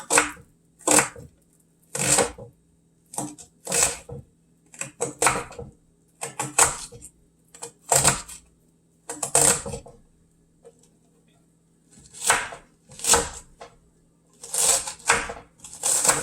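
Knife chopping a quarter of an onion into small pieces on a cutting board, sharp repeated cuts in quick bursts with short pauses between, close and clear, no talking.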